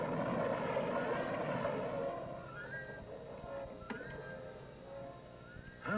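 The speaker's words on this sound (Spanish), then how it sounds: "Un dirigible." A steady droning airship engine in the 1966 King Kong Show cartoon, a moderate, continuous hum with faint tonal whines and a soft thump partway through, no talking.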